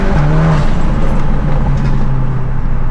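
A VW MK8 with a Trackslag downpipe, driven in sport mode, gives a loud, close, sustained engine drone under throttle, holding a steady low tone that swells slightly as the revs climb.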